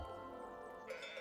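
Sheep on a farm in the video game Let Them Trade bleat softly, a faint and steady bit of game ambience with no talk.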